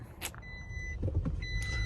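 A 2021 Nissan Titan Pro 4X pickup rolls along the road, its engine and tire noise a steady low cabin rumble, with a few faint interior beeps and clicks.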